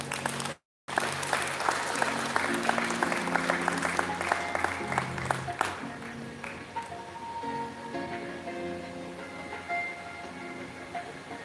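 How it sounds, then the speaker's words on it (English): An audience at a company fifth-anniversary celebration claps in sustained, dense applause that gradually thins toward scattered claps, with some background voices in a reverberant hall. "a huge round of applause to our supervisory staff as well"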